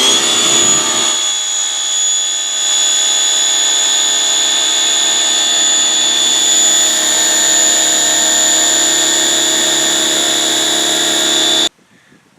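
An underpowered SunJoe electric pressure washer, running through an extension cord, drones loud and steady at close range with a constant motor whine, then cuts off abruptly near the end.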